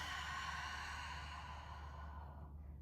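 A long, steady breath out during a seated chair yoga exercise, soft and breathy, close to the microphone, tapering slightly toward the end with no talking.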